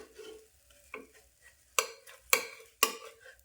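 Masala dosa made from gram flour sizzles in a pan, with quiet frying hiss broken by several sharp scrapes and taps as it is turned, each burst loud and brief.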